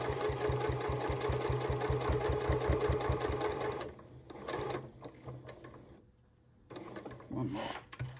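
A sewing machine stitches through several layers of quilting fabric for a cathedral window Christmas tree decoration, a fast, even mechanical thumping that runs for a few seconds. The stitching then stops, leaving faint handling sounds and a brief pause.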